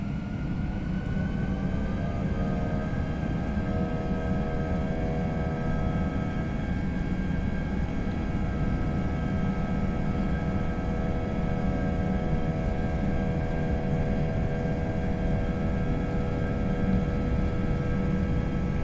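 Airbus A320 engines spooling up toward takeoff power at Sydney in the FSLabs flight simulator, a steady loud roar with rising whining tones layered above it that level off and hold.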